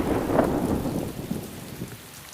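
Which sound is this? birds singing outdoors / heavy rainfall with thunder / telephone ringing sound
heavy rainfall with thunder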